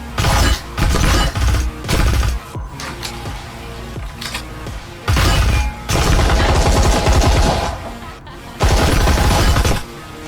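Submachine gun fire in the VR shooter Breachers on Meta Quest 3: loud, close bursts of rapid automatic shots, several strings of about a second each separated by brief pauses.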